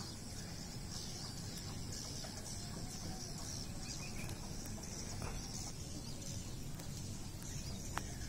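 Hundreds of thousands of swiftlets fly and call at dusk, a dense, continuous chorus of high chirps and clicks filling the air at a steady level.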